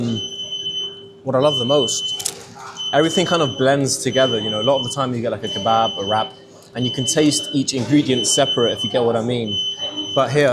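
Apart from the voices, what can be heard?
beeping alarm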